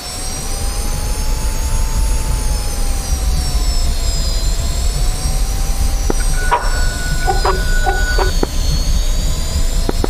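A jet aircraft in the DCS World flight simulator rolls for takeoff, a loud steady engine roar with a whining tone that slowly rises and falls, and a few short cockpit beeps partway through.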